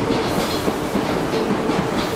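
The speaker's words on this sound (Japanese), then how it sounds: "到着の電車は各駅停車大阪梅田行きです" A Hankyu commuter train rumbles steadily into Awaji Station during the morning rush, with rhythmic clattering of wheels on rails, loud and close, no voices.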